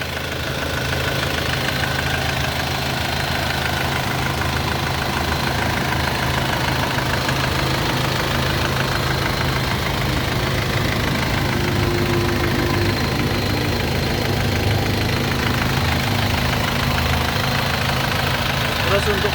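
Diesel engine of a black 2006 Isuzu Panther LS idling, a steady low rumble with a faint knocking texture. It holds even and unbroken throughout at moderate loudness, close by.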